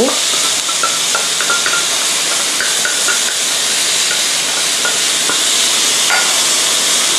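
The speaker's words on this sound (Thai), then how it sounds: "ผัดให้เข้ากันอีกสักเล็กน้อยนะคะ" Pork ribs with lemongrass stir-fried in a hot pan, seasoned with sugar, oyster sauce and fish sauce, make a continuous loud hissing sizzle with occasional soft scrapes of stirring, close and steady, with no voices.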